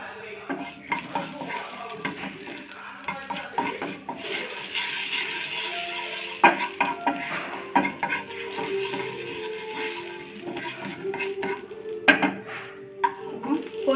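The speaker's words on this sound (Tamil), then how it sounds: "கிராம்பு, ஏலக்காய், அன்னாசி மூணையும் சேர்த்து வதக்கிக்கலாம்." Whole cloves, cardamom and star anise sauté in oil in a pan for paneer butter masala. A soft, steady sizzle runs under irregular spoon scrapes and metal clinks against the pan, with no talking.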